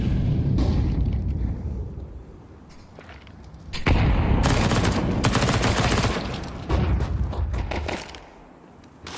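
Dense, loud volleys of pistol fire from a Counter-Strike pistol round on Dust 2 in a pro match between Aurora and Furia, with rapid overlapping shots in bursts separated by brief lulls.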